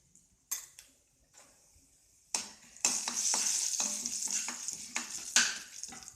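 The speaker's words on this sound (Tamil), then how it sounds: "கொஞ்சம் ஃப்ரை ஆகிற வரலும் வெயிட் பண்ணுறோம்." Mustard seeds, urad and chana dal with turmeric fry in hot oil for a puffed-rice snack, starting with scattered pops and scrapes, then swelling into a loud, continuous crackling sizzle with spoon clinks, no talk.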